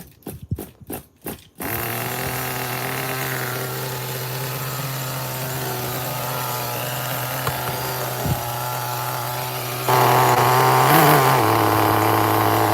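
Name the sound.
nitro engine of HPI RS4-3 RC car running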